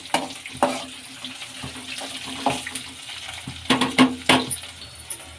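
Garlic, ginger and green chilli frying in a pan, with a low steady sizzle broken by scattered clinks and scraping taps as the mixture is stirred.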